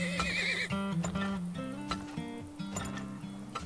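Video game horse lets out a loud, wavering whinny at the start, then hooves clip-clop in a steady rhythm alongside game music for the rest of the few seconds.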